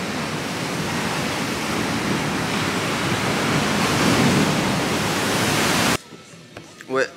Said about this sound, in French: Il y a des vagues, elles sont vraiment mais énormes.